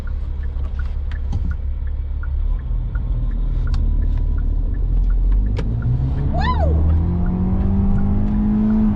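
A 2021 Hyundai Elantra accelerates hard up an on-ramp with stability control disabled, its engine heard loud from inside the cabin as it drones and climbs steadily in pitch, with a brief squeal partway through.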